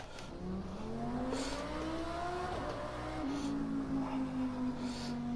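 An Audi R8 GT3 race car in Project Cars 2 at Silverstone drives with its engine droning and rising in pitch through acceleration and shifts, a steady synthetic engine tone heard continuously without speech.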